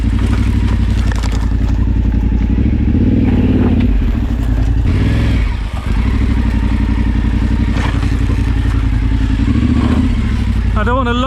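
A big adventure motorcycle rumbles slowly down a narrow lane, its engine note steady and close with occasional clatter from the bike and a short dip partway through, and a rider talks over it.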